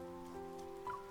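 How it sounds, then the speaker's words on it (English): Rain falls in the Love and Deepspace video game, a soft, quiet patter running under sustained tonal background music, with a faint brighter splash near the end. "It's actually raining. It's raining!"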